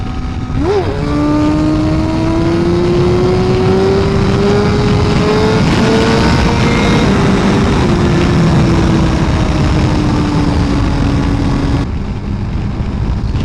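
2017 Suzuki GSX-R1000R sportbike engine revving hard during a ride, a loud continuous howl that climbs steadily in pitch with a brief dip before rising again, with wind noise throughout and no talk.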